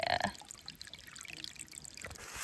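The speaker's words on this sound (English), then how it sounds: "Water's still flowing." Water trickles and pours steadily outdoors on a Vermont mountain trail, a soft continuous flowing sound with a brief louder splash at the start.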